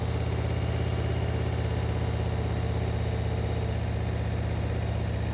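A motorcycle engine runs at low speed with a steady throttle during slow-speed riding practice, giving a loud, continuous, even drone that holds without revving for several seconds.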